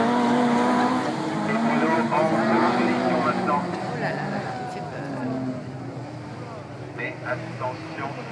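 A race car slides around a damp circuit at Bazaiges, its engine revving and tires squealing as it loses grip, with a voice talking over the noise throughout.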